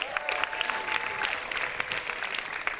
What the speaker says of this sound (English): So give him a huge round of applause too.